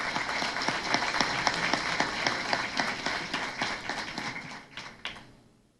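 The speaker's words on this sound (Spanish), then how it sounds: "Recibámoslos con un fuerte aplauso" Audience applause for a panel speaker at a conference event, steady dense clapping from a crowd that fades out over about six seconds.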